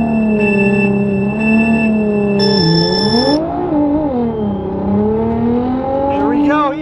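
A 750 hp Nissan GT-R accelerates at high speed, its loud engine note climbing and falling in sweeping pitch, with a brief electronic beeping tone near the start and people speaking over the roar.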